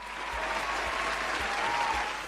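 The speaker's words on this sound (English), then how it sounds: "Give him a round of applause." Audience applause on a talk show, a steady wash of clapping at moderate level lasting the whole short stretch, with faint low thumps beneath and no clear voices.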